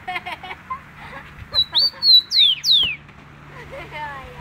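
A rufous-collared sparrow (tico-tico) gives a run of clear, close chirps and whistled notes, a few rising strokes in quick succession, between bursts of someone talking nearby.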